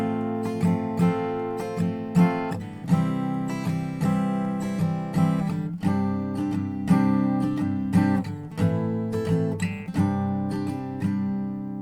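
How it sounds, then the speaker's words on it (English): An acoustic guitar strums the chords of a song in a steady down-up rhythm, with clear ringing chord changes played close and alone. "So, with strumming, it sounds like this."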